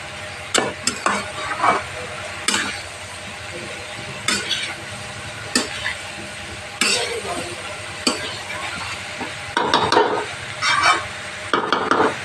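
Prawns being stirred into masala in a pan for a Bengali bottle gourd and prawn dish, with intermittent scrapes and knocks of a spoon against the pan over a low sizzle, close by.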